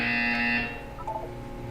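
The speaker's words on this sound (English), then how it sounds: "When you hear the buzzer, look up at the ceiling." A harsh electronic buzzer from a video game sounds loudly for about half a second, then cuts off, leaving faint game tones and low background hum.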